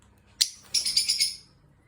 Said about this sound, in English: And these are our lovebirds.